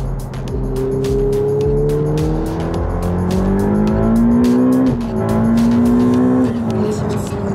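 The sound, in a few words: sports car accelerating with harsh gear shifts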